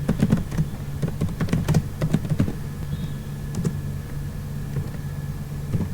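Python code is typed on a computer keyboard in quick, close, crisp clusters of key clicks during the first couple of seconds, then the typing thins to a few scattered taps over a low steady hum; no talking.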